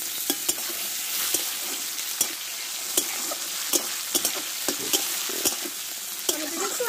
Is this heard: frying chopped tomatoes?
yes